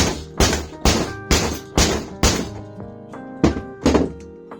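VFC AK-74M airsoft magazine being beaten to loosen it, nine heavy thunks struck at a steady rhythm about half a second apart, with a short pause before the last three, each ringing briefly.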